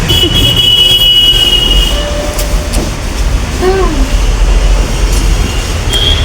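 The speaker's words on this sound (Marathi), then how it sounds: "चला आता आपण भेटूया मेट्रो स्टेशनवर" A Pune metro train rumbles at a station, a loud sustained low roar with brief squeals and tonal whines from the wheels and doors, and faint speech underneath.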